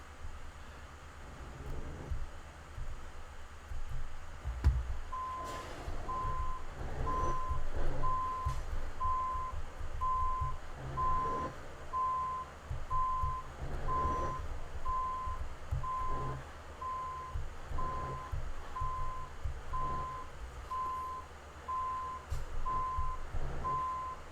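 A truck in Euro Truck Simulator 2 reverses, giving a steady run of evenly spaced, moderately loud backup beeps over a low engine rumble, with no speech.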